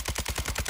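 An RPK light machine gun firing in Warzone 2, a rapid, steady automatic burst of about eight evenly spaced shots, loud and close with no talking.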